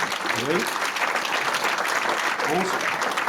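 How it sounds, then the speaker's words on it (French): A crowd at a foundation's 20th-anniversary celebration keeps up continuous applause, and brief voices or cheers rise above it twice. "On s'applaudit."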